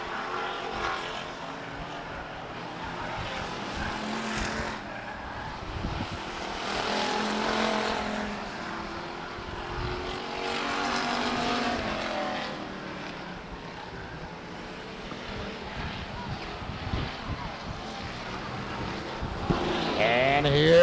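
Stock cars race around Stockton 99 Speedway, a steady roaring engine drone that swells and fades as the pack passes, with a race announcer talking over it throughout.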